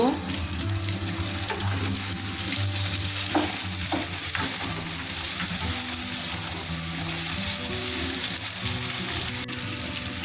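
Capsicum stirred into chicken frying in a pan for restaurant-style chili chicken, a steady close sizzle running throughout with scraping stir strokes, joined by faint kitchen hum and tonal background.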